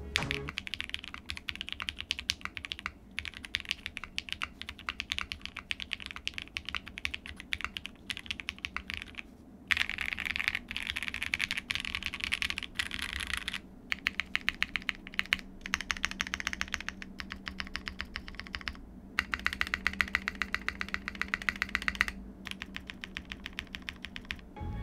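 Steady typing on a Shelby80 TKL mechanical keyboard built with a POM plate and plate foam. The keystrokes are fairly full and moderately loud, running continuously with brief pauses and no voices.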